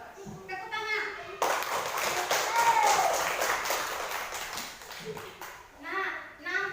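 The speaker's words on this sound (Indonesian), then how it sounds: "Tepuk tangan." Primary schoolchildren in a classroom break into rhythmic group clapping after a teacher's prompt, close and lively, with a voice speaking at the start and end.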